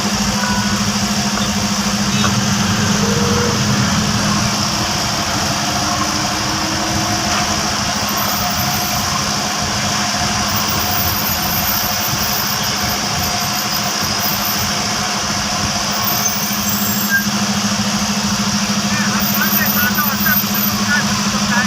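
Vehicle engines idle in a traffic jam on the Sinnar Mohadari ghat of the Pune–Nashik highway, a steady, unbroken low hum with a constant drone throughout.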